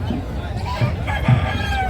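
A rooster crows at a distance at an agricultural festival in Chiplun, amid outdoor background noise and a faint murmur of voices.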